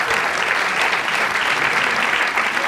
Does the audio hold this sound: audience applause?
yes